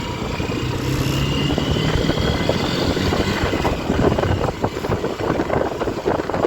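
Honda CBF 150 motorcycle engine while riding off slowly, a steady close buzzing drone with slight rises in revs and rumbling wind noise throughout.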